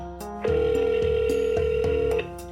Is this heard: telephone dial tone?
yes